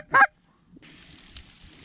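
A specklebelly goose gives one loud, close honking call on a cold-front solo goose hunt, followed by quieter distant goose chatter and wind-like hiss over a field.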